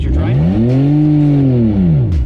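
A BMW E46 accelerating in third gear gives a loud, close engine note that climbs in pitch and then falls away over about two seconds, with no talking.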